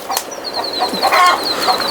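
Chickens kept on a farm among lettuce and greens cluck and chatter close by, a steady busy flock with overlapping calls and a thin high whistle-like tone running through.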